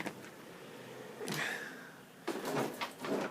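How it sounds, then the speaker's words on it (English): A shop door opens with a couple of soft knocks and a brief scraping sweep, then footsteps and handling sounds follow in a quiet room. "In through the shop door."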